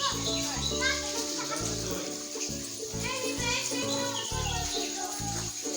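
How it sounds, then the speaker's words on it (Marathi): Several children shout and play together in water near a forest Ganesh temple, their excited voices overlapping loudly and continuously, with some splashing-like noise underneath. "छोट्या छोट्या मुलांना मजा येते इथे"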